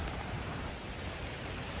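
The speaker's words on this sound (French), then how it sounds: "la pluie commence à devenir très intense, on peut la voir juste ici" Heavy rain falling on a city in Kuala Lumpur, a dense steady roar of hiss filling the whole moment, loud and unbroken, with no voices.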